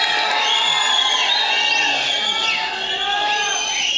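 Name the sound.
audience applause and cheering for STR on stage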